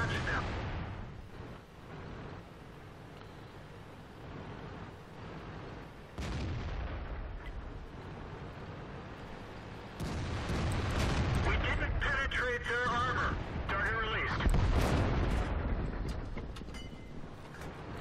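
A tank cannon fires in World of Tanks on the Prokhorovka map: loud, booming blasts with a rumbling tail, set against constant engine and battle noise, with a second heavy burst toward the end.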